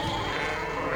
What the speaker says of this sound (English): I love the sheep. The sheep were great.